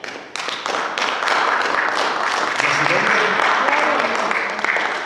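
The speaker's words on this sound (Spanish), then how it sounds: "Hermanos, ¿le da una ofrenda de palmas al Señor?" A church congregation claps for the Lord during a Spanish-language sermon, a sustained mass of hand claps with scattered sharp individual slaps, moderately loud and fairly close, with voices faintly beneath.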